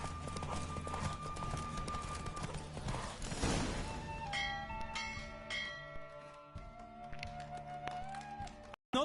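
Horse hooves galloping in a race in The Witcher 3, a steady rapid clip-clop close by with game music and bell-like tones layered over it.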